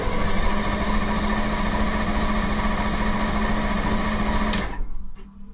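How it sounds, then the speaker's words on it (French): A car engine runs at a steady, buzzing idle with a constant hum, then cuts off abruptly near the end, leaving quiet. "On allume le moteur, l'alternateur c'est bon."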